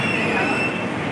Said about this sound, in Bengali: ছোট ট্রেনের রাইড আর এই পাশে রয়েছে পেন্ডুলাম